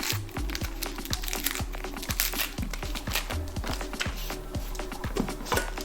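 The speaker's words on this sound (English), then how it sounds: "Peel the skin off." Papery skin is peeled from a white onion by hand, close up, producing continuous dry crinkling and crackling with quick rhythmic rustles throughout and no talk.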